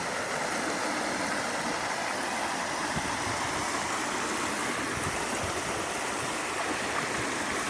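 Water from a pump-fed park fountain falls into a basin, a steady dense rushing splash that holds at an even level for the whole stretch, with no talk over it.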